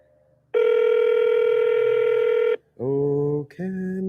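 Telephone line tones: a long steady dial-type tone for about two seconds, then a lower harmonic ringback tone pulsing twice with a short break, loud and clear with no talking.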